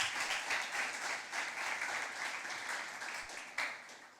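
An audience at an impromptu speaking competition for students claps in sustained applause for just over four seconds, a dense, even patter of many hands at moderate distance with no voices over it.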